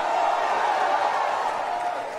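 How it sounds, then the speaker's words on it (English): A church congregation raises a loud, sustained roar of shouting and whooping to the king, a dense crowd sound with faint clapping mixed in, easing off slightly at the end. "Come on, shout to the king."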